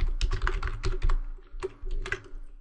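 Rapid typing on a computer keyboard while entering a heading in Photoshop, with quick bursts of close, crisp key clicks broken by short pauses.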